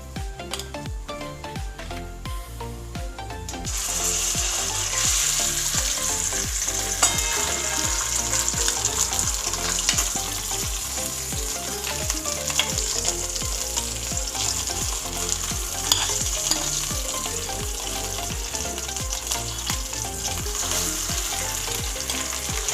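Mashed potatoes being stir-fried in a few spoons of oil in a wok for a kachhi dabeli filling give a steady, loud sizzle with repeated scraping stirs, the frying growing louder after the first few seconds and continuing throughout.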